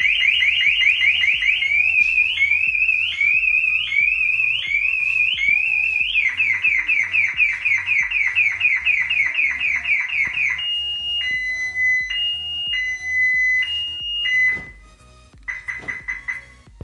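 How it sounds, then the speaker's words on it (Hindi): Maruti car anti-theft alarm blaring loudly up close, a rapid warbling electronic siren that switches to a slower two-tone pulsing wail, then stops, followed by brief short bursts. "उसके बाद अलार्म जोर जोर से बजने लगेगा, ऐसे कि अभी कर रहा हूँ मैं"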